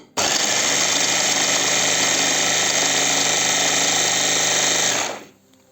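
A hand blender motor runs steadily at medium speed for about five seconds, a loud continuous whine that starts abruptly and cuts off near the end, with no talking.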